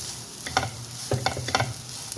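Rice flour and bitter gourd frying in a pan for a palya, a soft sizzle under several quick scraping stirs, close and fairly quiet.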